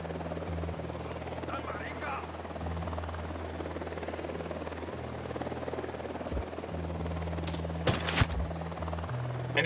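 A helicopter in the video game Ghost Recon Wildlands drones steadily with a low rotor hum throughout, joined by bursts of gunfire near the end while speech is heard over it.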